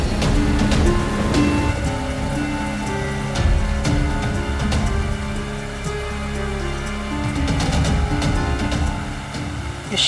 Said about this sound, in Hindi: इस शिरडी में अचानक ऐसी बारिश?